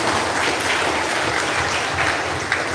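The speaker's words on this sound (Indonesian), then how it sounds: "tepuk tangan untuk Bapak Ibu" Indoor audience applause at a live church community gathering, steady dense clapping from a crowd throughout, moderately loud with no talking over it.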